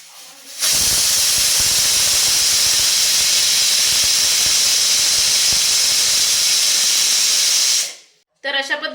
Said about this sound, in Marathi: मीडियम असेवरती कुकरच्या आपल्याला इथे तीन शिट्ट्या काढून घ्यायच्या आहेत